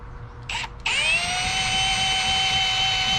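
Power drill boring into a wall in plain rotary mode, starting with a couple of short bursts then running steadily at high speed, close and fairly loud with no talking.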